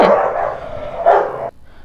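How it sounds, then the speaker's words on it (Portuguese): Dogs barking in a noisy burst, a sustained yapping clamor followed by a second loud outburst that cuts off abruptly, close by. "Desculpa, gente, a baderna dos cachorros."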